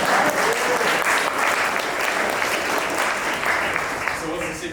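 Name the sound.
audience applause at a seminar event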